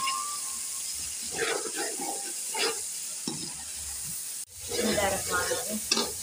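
Garlic frying in a pan for a mixed vegetable curry, a soft hissing sizzle with stirring, growing louder and brighter near the end, close and moderately quiet.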